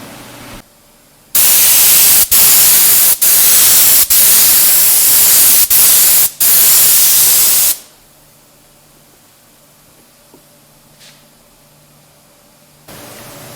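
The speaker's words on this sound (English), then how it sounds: "Let's get some lacquer on it." Lacquer finish sprayed onto wood makes a loud, close, continuous hiss lasting about six seconds, broken by several brief pauses, then stopping into quiet room tone.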